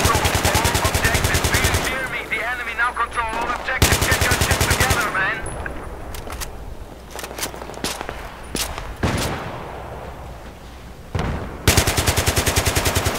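Rapid bursts of automatic gunfire rattle loudly in a Battlefield 3 online match, broken by short pauses and a few single shots, with distant firing in the gaps.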